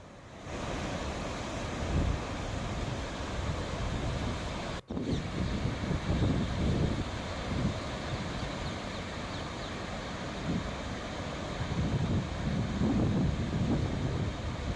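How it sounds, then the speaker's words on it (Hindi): Swift river water from a dam discharge of the Bisalpur Dam surging down the Banas River, a steady loud roaring wash with gusty rumble, continuous for the whole stretch with a brief dropout partway. "बीसलपुर बांध में पानी निकासी से बनास नदी में बहाव तेज हो गया है।"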